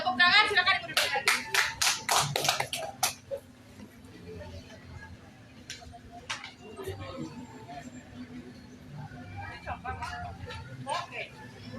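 A short burst of audience clapping from a seated group in a presentation room, loud and rapid at first then fading within a few seconds, followed by scattered murmurs and talking in the room.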